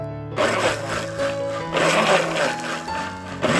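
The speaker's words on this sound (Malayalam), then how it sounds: "നാരങ്ങ പിഴിഞ്ഞതും ഇതെല്ലാം മിക്സിയിൽ അടിച്ചിട്ട് വരാം." A mixer grinder whirs loudly with a steady motor whine, blending lime juice, its pitch shifting slightly as it blends, starting after a brief silent moment.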